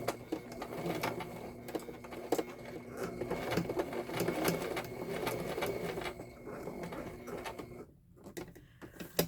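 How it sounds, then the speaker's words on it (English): A sewing machine runs in bursts with a rapid mechanical stitching rhythm, stopping briefly near the end before starting again. "don't mess up now, sewing machine"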